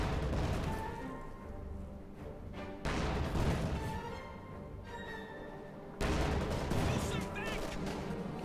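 MG42 machine gun fire in Company of Heroes 2 comes as dense bursts of distant rattling shots and booms of battle, loud and continuous with swells in intensity, under a busy game soundscape.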